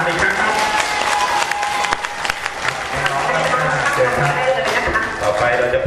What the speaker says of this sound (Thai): ขอเสียงปรบมือและดังทั้ง10สาวงามอีกครั้งครับ